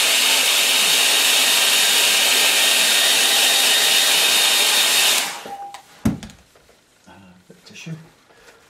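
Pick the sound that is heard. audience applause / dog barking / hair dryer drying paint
hair dryer drying paint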